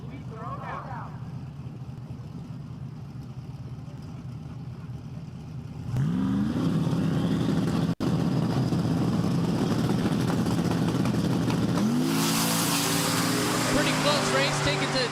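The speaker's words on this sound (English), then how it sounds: "Blue G-Body Malibu right side as we throw down." Drag racing cars, including a blue G-Body Malibu, idle and then launch at a dragway, each launch bringing a loud engine roar with rising revs, over a steady outdoor rumble and under a voice.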